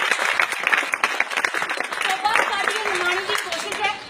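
An audience clapping at a speech, a dense patter of applause mixed with voices calling out over it.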